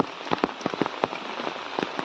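Heavy rain falls in a village in the Sambalpur area, a short burst of steady patter with distinct drops tapping on a nearby surface.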